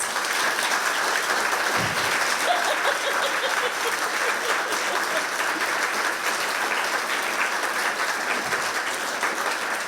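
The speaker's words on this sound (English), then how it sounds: "I would like to ask you to join with me in giving our wonderful expert panellists an enormous round of applause" Sustained audience applause at an evening museum Halloween event, a steady dense wash of clapping from a seated crowd, loud and unbroken for the whole stretch with no talk over it.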